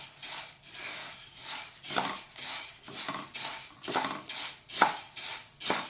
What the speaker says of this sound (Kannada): ಈಗ ಗ್ಯಾಸಿನ ಮೇಲೆ ಬಾಣಲೆ ಇಟ್ಟು ಮೆಂತ್ಯ ಮತ್ತು ಕರಿಬೇವನ್ನು ಒಟ್ಟಿಗೆ ಹಾಕಿ ಹುರಿದುಕೊಳ್ಳಿ